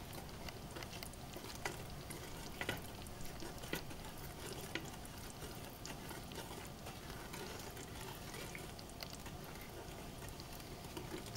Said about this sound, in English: Stirring constantly so it doesn't burn at the bottom.